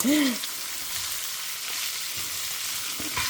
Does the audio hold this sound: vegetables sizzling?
yes